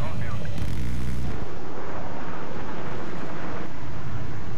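A fighter jet fires its weapons in Battlefield 3, with loud, dense booming blasts and a sustained roaring rumble that fills the whole stretch.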